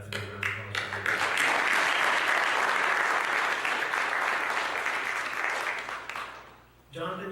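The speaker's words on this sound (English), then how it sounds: "So that's a big round of applause for you." Crowd applause at an Eagle Scout Court of Honor, building quickly into a dense round of clapping that holds for several seconds before fading, with a voice resuming near the end.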